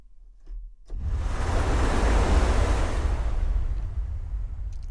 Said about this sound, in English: you have that the wave at the top breaking